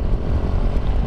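Honda CG 150 motorcycle with a Fortuna exhaust and no air filter, its single-cylinder engine giving a low, throaty, uneven rumble that stays steady and fairly close throughout.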